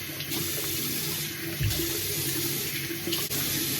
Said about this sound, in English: Then I splash the water on my face and wash it again.